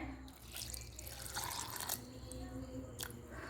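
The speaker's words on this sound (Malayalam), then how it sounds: "ഞാൻ വെള്ളം ഒഴിക്കുന്നത് കാണിച്ചു തരാമേ." Water pours steadily into a mixer grinder jar holding ration rice for idli batter, a continuous splashing trickle that fills the short stretch at moderate level with no talking.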